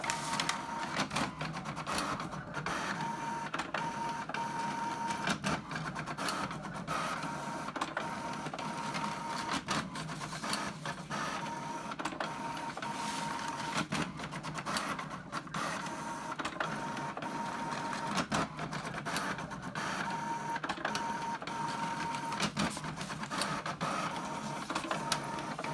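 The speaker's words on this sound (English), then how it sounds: "That is how you print to envelopes." A printer runs steadily with a whirring, clicking mechanical drone, pulsing rhythmically as it feeds and prints envelopes, close by and continuous.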